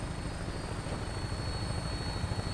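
A Fallout 4 vertibird lifts off in a steady, fairly quiet rotor whir, a broad even rumble with a faint high whine, uninterrupted for a couple of seconds.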